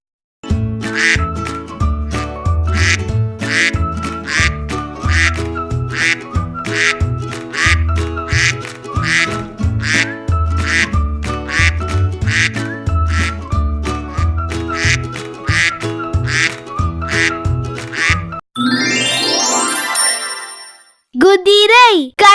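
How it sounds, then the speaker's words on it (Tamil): Duck quacks heard as a steady rhythmic series of loud, close calls over a musical backing with tinkling tones, ending with a few sweeping effects. "வாத்து கத்தும், duck quacks."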